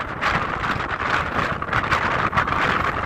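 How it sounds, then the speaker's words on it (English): Steady, loud wind buffeting the microphone on a mountain ridge in the Spring Mountains, a continuous rushing roar with gusty surges throughout and no voices. "Pretty windy at this point"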